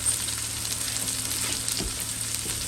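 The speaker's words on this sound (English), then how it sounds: "I'm going to cook it in medium heat until they are golden brown from both sides." Ground beef patties fry over medium heat in a pan, giving a steady, close sizzle and crackle with a few soft pops and no talking.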